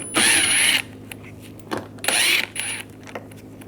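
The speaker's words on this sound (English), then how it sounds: "We're using a T25 socket to take these screws out." Ratchet clicks from a T25 socket backing screws out of a 2010-2014 Volkswagen GTI headlight area, two loud bursts of rapid clicking with shorter spurts between, close and with no talk.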